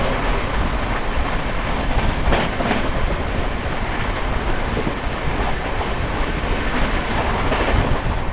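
The Azimabad Express rushes along at high speed at night near Fatehpur, a dense, loud, continuous roar of wheels and rushing wind with faint rhythmic clatter throughout.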